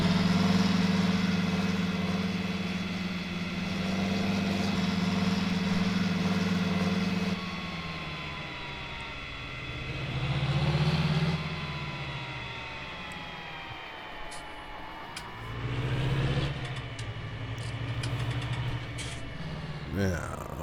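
A farm tractor engine idles and runs steadily during oat harvesting, a strong low rumble with harmonic hum throughout, shifting in pitch as it revs up and down twice near the end, with a person talking over it.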